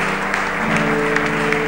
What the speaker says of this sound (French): Si nous allons bien, nous pouvons applaudir le Seigneur.